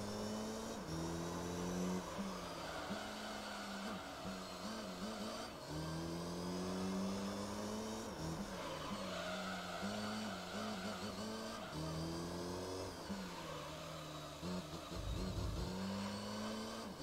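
Race car engine in Gran Turismo 3: A-Spec during the Grand Valley 300km endurance race, running on worn tires, droning steadily with repeated upshifts, revs climbing and falling, and occasional tire squeal, continuous and fairly quiet throughout.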